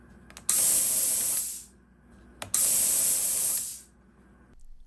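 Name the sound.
mist coolant spraying on a CNC mill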